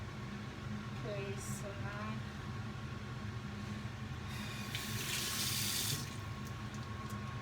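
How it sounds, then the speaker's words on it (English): Hot water runs from a kitchen tap into a pot for washing rice, a steady stream over a low hum, swelling louder toward the end with a few clinks. "I always use hot water to wash the rice"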